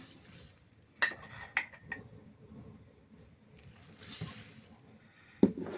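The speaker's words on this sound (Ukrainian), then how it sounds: "Все це перемішую і залишаємо, щоб кабачки пом'якшали і пустили сік." Chopped onion and salt being mixed into zucchini in a bowl, with sharp metallic clinks of a spoon, a few wet squishing strokes and short rustling bursts, close and intermittent.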